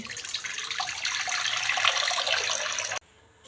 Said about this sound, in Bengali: কড়াতে জল দিয়ে দিচ্ছি